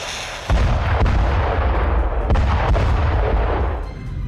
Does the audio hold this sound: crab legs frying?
no